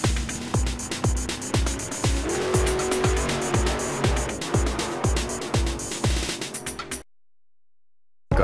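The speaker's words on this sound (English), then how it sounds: "Race car." A race car at speed with a dense string of sharp, rapid engine bursts and tire squeal, loud and close for several seconds before cutting abruptly to silence.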